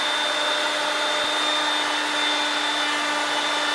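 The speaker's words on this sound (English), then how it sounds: "to do that I'm going to use an 1/8 inch radius round over bit." A router fitted with a 1/8 inch radius round over bit rounds the edges of loose tenon stock, giving a steady, moderately loud motor whine with a constant tone and no talk.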